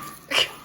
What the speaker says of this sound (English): I just hear the noisy puppy.